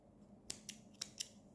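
Scissors snip beige yarn for a crochet project, four quick crisp cuts in close succession, faint and alone.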